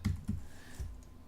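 Quick bursts of typing on a computer keyboard, a few clustered key clicks separated by short pauses, close and fairly quiet with no talking.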